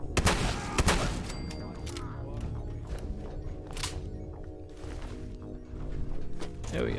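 Double-barrel shotgun firing in Fallout 4, two loud blasts near the start followed by mechanical clunks and scattered further shots, with some faint talking underneath.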